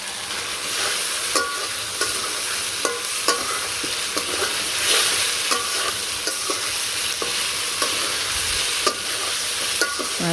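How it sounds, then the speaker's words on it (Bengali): Fish with onion, garlic, ginger, turmeric, chilli and salt fries in a pan, giving a loud, continuous close-up sizzle broken by regular scraping stirs, with no voices. "এখানে পেঁয়াজ রসুন আদা হলুদ মরিচের ফাঁকি লবণ সব দিয়ে ভালো করে কষিয়ে নিলাম।"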